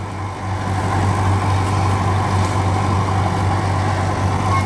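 An Arjun 605 DI tractor engine runs steadily with a 7-foot super seeder attached. It makes a loud, continuous low diesel drone and hum, with no break for the whole stretch and no voices.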